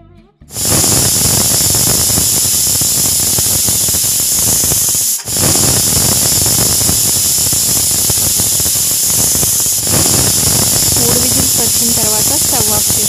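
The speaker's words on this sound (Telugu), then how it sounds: "స్టవ్ మీడియం ఫ్లేమ్లో పెట్టుకుని 3 విజిల్స్ వచ్చేంత వరకు ఉడకనివ్వండి." A pressure cooker on a medium-flame stove, cooking methi leaf dal, releases steam in a loud continuous hiss, broken by one brief pause midway, with a faint whistling tone near the end.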